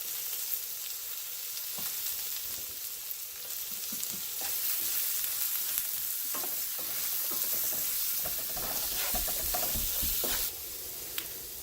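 Paneer capsicum curry with salt added, frying and being stirred in a pan, giving a continuous close sizzle broken by repeated scraping stirs of a spoon.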